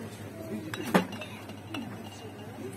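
A single sharp glass clink from a glass bottle rings out, followed by a few faint light taps against a quiet background.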